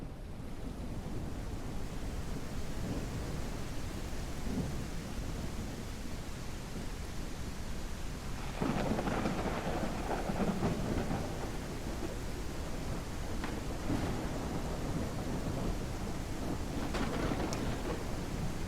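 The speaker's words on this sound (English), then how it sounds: "We're going to go to rain, thunderstorms." Rain and thunderstorm weather in the railroad video game RO, a steady rain hiss with low rumbling thunder rolls building in the second half, no voices over it.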